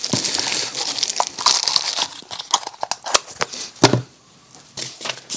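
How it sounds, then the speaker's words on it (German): A big pile of paper is quickly crumpled and stuffed back into a bag in a workshop, giving dense crinkling and rustling bursts, close and uneven, with a brief lull near the end. "Einen riesigen Berg Papier. Ja, cool. Schnell wieder rein in die Tüte."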